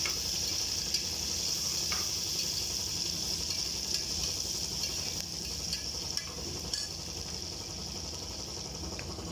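Onions sautéing in a pan in a home kitchen, a steady close sizzle and frying hiss running unbroken throughout, with faint scraping clicks from stirring.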